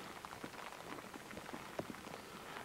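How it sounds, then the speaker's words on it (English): Steady rain pattering on a surface outdoors on a safari drive while lions walk nearby, a dense even hiss with scattered sharper drops throughout, no voices. "Absolutely drenched from this rain."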